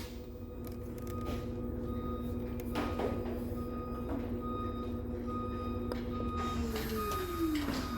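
A Samsung washing machine being tested for an unbalanced-load error winds down as it is stopped, a steady mechanical hum with tonal whine that slides downward near the end, a few clicks throughout.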